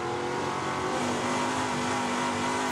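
An ARCA race car laps the Springfield mile dirt oval at the Illinois State Fairgrounds, giving a continuous loud, high-revving engine whine with steady pitch, dense and unbroken throughout.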